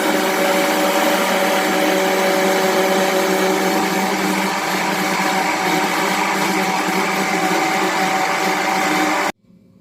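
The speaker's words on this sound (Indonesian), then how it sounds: "Selanjutnya semua bahannya tadi saya akan mix atau saya blender." A kitchen blender whirs loudly and steadily up close as it mixes bananas and orange juice into a juice, then cuts off abruptly near the end.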